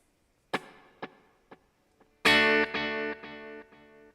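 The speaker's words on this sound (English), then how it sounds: "the reverb is being fed into the delay" Electric guitar played through a NUX Trident pedal with reverb feeding into delay: four single plucked notes with fading echoes, then a loud strummed chord ringing into several decaying repeats.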